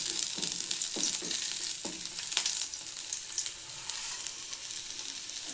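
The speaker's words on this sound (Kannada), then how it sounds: "ಎಲ್ಲ ಹಾಕಿ ಹುರ್ಕೊಳ್ಳೋಣ. ಆಮೇಲೆ ಚೆನ್ನಾಗಿ ಫ್ರೈ ಆಗುತ್ತೆ." Onions, ginger and spices fry in a pan for a North Karnataka chana dal curry, making a soft steady sizzle broken by a few sharper crackles and stirring clicks, with no voices.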